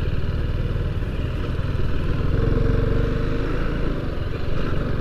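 A motorcycle engine thrums steadily and loudly while being ridden, close by and with a rough mechanical clatter. Wind noise blows over it, and no one speaks.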